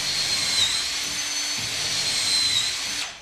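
Festool drill fitted with a CENTROTEC chuck drilling and countersinking to a fixed depth, a steady high motor whine held for about three seconds before it winds down, close and alone with no talk.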